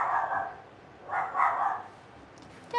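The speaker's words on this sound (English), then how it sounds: "Can you guys hear that? That is my child, my doggy child." A pet dog barks indoors in the background of a home: two muffled, moderately faint bursts of barking with a quiet pause between them.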